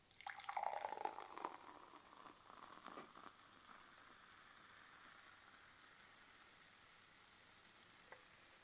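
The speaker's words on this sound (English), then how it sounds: "Now I'm going to pour the Moxie in." Moxie soda poured into a glass, a close liquid splash and fizz for roughly the first three seconds, then a quiet, faintly hissing tail of settling carbonation with one small drip near the end.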